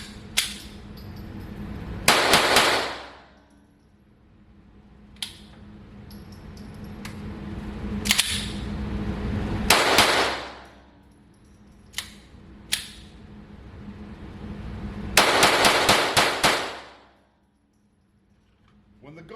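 Sharp, loud .22 rifle shots firing Monarch ammunition, several separate reports spaced a few seconds apart, with quick double bursts near the start and toward the end, plus faint handling clicks and some low talk in between.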